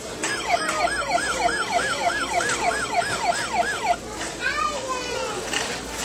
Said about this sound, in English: Must be an LA police car.